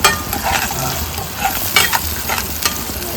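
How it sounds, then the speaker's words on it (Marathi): Tomatoes fry in a hot pan, sizzling steadily while a spoon stirs them with soft scraping bursts, close and continuous. "आणि आता आपण घालूया याच्यामध्ये टोमॅटो."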